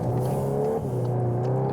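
A VW Golf R Estate, 2022 Golf 8 R Variant, accelerating in race mode, a loud, steady, close engine drone rising in pitch as it pulls out onto the street.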